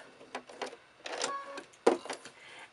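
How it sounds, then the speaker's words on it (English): Sewing machine running short back stitching bursts through quilted fabric, stop-start whirring in several brief runs with small clicks, close and moderately quiet. "And then I just back stitch up the fabric."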